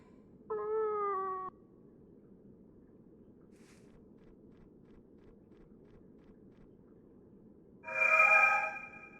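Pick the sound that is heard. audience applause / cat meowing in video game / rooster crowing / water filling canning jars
cat meowing in video game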